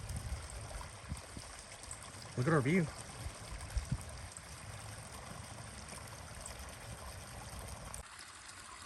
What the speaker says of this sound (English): we're gonna sit up here on top of this rock, listen to the water for a little bit and rest.